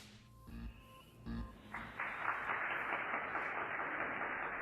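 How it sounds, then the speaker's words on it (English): Canned applause on a home shopping TV broadcast swells in after a couple of brief tones and holds as steady, moderately faint clapping. "That canned applause would have been cheesy and laughable"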